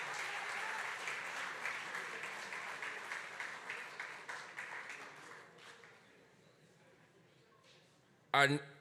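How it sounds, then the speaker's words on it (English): Audience applause at a Malcolm X Day 98th birthday celebration in words and music rises as a dense, sustained wash, then fades away, and a voice follows briefly at the end. "Give yourselves a round of applause."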